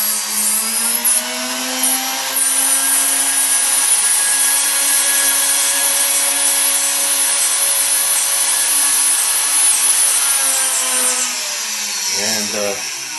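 A Pen Wizard engraving machine runs close by, cutting into a wooden pen blank with a steady, high-pitched whine and grinding buzz that holds for about eleven seconds before winding down.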